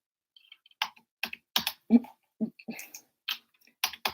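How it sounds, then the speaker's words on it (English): Typing on a computer keyboard: quiet, irregular clusters of close key clicks separated by short pauses. "She would stop typing."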